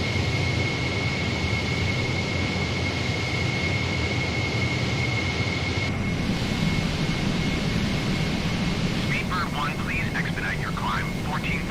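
Steady, loud roar of a supersonic Cessna Concorde jet engine in Microsoft Flight Simulator, droning without a break throughout, with faint chirping tones toward the end.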